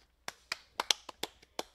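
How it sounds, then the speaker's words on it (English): Eight sharp hand claps in an uneven rhythm, close and fairly quiet, with no voices over them. "So painful when I clapped my hands just then."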